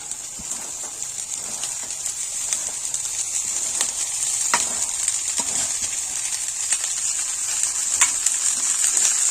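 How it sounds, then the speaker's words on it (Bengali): Kalmi greens and lightly fried onions sizzle in a hot pan with a steady, bright crackle and scattered small pops throughout, with no voices. "পেঁয়াজগুলোকে হালকা করে ভেজে নিয়েছি। এর মধ্যে দিয়ে দেবো আমি শাকগুলোকে।"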